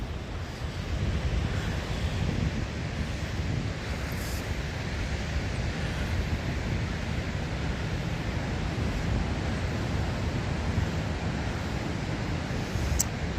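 Steady surf washes in at New Smyrna Beach at sunrise, a continuous soft roar mixed with wind buffeting the microphone, with no talking.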